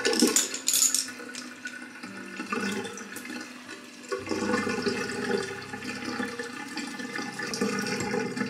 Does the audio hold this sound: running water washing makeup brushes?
yes